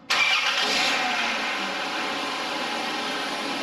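A Dodge 3.3L V6 engine turns over and catches at once, then settles into a steady, fairly loud idle with a whiny hum on top.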